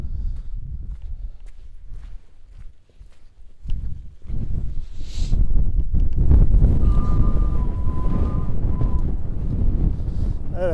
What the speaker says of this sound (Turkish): Rüzgar, aşırı rüzgar var dostlar.